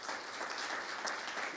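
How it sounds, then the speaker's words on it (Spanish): A church congregation bursts into applause, a dense, steady wash of many hands clapping at once that holds evenly for a moment. "Vamos a darle un aplauso a Jesús."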